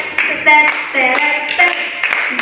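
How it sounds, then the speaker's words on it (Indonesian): An Indonesian primary school teacher claps out a short rhythmic praise pattern for a student's correct answer, a few quick close claps in a patterned burst with a voice briefly under it. "Seperti ini tepukannya"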